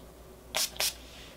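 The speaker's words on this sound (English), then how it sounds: "This is just a spray-on primer" Two quick hissing bursts of a spray-on NYX face primer, close and crisp, with a brief gap between them against a quiet room.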